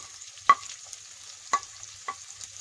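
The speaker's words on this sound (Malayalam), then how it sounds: "ഇനി ഇതെല്ലാം ചേർത്ത് നമുക്ക് നല്ലോണം വഴറ്റിയെടുക്കണം" Garlic, ginger, onion and green chili sautéing in a pan for Kerala-style botti varattiyathu, a quiet low sizzle broken by three sharp spatula scrapes or taps, with no voices.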